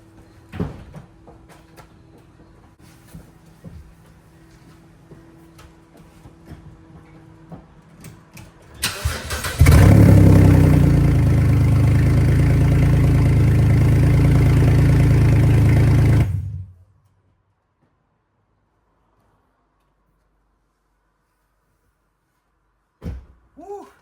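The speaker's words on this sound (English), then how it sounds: "You got to do a cold start just because. All right, let's start it up." A Porsche 981 Cayman or Boxster engine cold-starts with no exhaust fitted, cranking and roaring to life, running loud and raw for several seconds before cutting off into silence; faint handling noises before.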